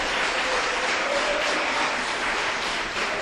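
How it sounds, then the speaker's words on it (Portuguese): A church congregation applauds during an evening worship service, a dense, steady wash of many hands clapping together, loud and continuous throughout with no talk over it. "da glória a Jesus, dá um salve de palmas para Ele com alegria, meus irmãos."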